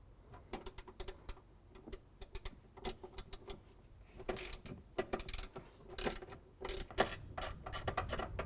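A hand ratchet works 10mm bolts off the intake box bracket on the passenger side of a 2017 Ford F-250 Powerstroke, giving repeated close bursts of sharp clicking with short pauses between strokes.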